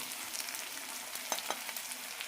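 Ginger garlic paste roasting in a pan for tender jackfruit masala, a soft, steady frying sizzle with a few light stirring scrapes near the middle.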